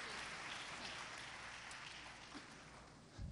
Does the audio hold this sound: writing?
no